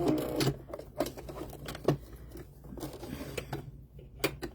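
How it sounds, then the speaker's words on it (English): A sewing machine backstitches through doll hair, giving short bursts of stitching that start and stop several times at close range. "So I'm going to backstitch."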